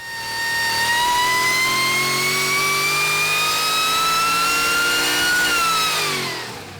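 A 565ci big block Chevy with a CNC-ported MK2 TVS2650 supercharger revs loudly and steadily, its pitch slowly rising into a high blower whine for several seconds before cutting off sharply and fading at the end.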